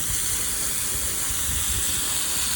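Steady, dense hiss of water from a garden hose rinsing KleenKote foam off a pool surface, continuous and close with no pauses.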